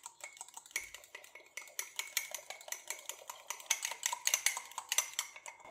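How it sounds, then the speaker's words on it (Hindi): A fork whisks chocolate mug cake batter with powdered sugar in a mug in quick, rhythmic clinks and scrapes against the sides, close and steady, growing brisker toward the end, with no talking. "फिर से इसे फेंटेंगे"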